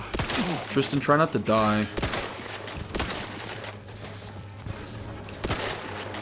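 Rifle fire in The Outer Worlds 2 comes in rapid bursts of sharp shots with loud impacts, mixed with in-game voices and a player talking over the action.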